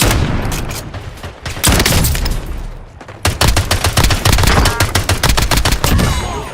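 Gunfire rattles through a Call of Duty Warzone match: loud rapid automatic bursts arrive as sharp repeated cracks, with a short lull before another long fast volley.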